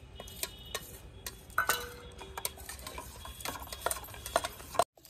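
A spoon stirs a blended orange peel mixture for homemade soap in a pot, making repeated light clicking and scraping taps against the sides at an irregular rhythm, close and fairly quiet.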